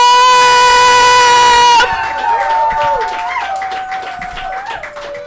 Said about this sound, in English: So why don't you guys start clapping for the CTB show?